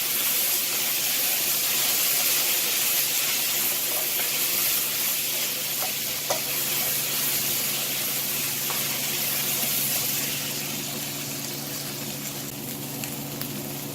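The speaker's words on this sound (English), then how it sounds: "The tomato paste is caramelizing. It's actually sticking a little bit to the bottom" Tomato paste sizzles and caramelizes on the bottom of a pot of chili, a steady close hiss with faint crackles that slowly fades slightly toward the end, with no voices.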